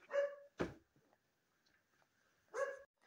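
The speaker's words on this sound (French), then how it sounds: "Ah, ça, c'est mon chien." A pet dog barks indoors: two sharp, fairly close barks at the start, a brief pause with faint shuffling, then one more bark near the end, with no talk over them.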